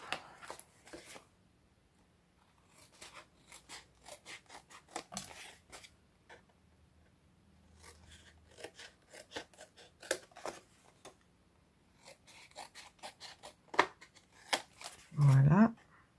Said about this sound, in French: mon ciseau.